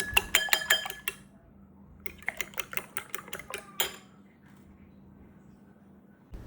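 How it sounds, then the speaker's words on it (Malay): Two eggs and a pinch of salt beaten in a bowl for a breakfast chicken wrap: rapid bursts of clinking utensil strikes against the bowl, in two quick rhythmic runs separated by a pause, close and crisp, then quiet. "Pecahkan 2 biji telur. Tambah sedikit garam. Dan pukul sampai semua jadi sebatilah."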